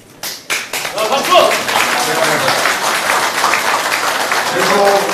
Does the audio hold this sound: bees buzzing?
no